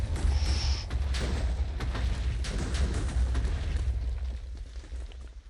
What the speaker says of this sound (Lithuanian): Visas laivas sprogo.